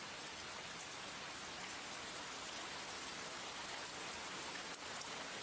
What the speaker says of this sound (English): That's some loud rain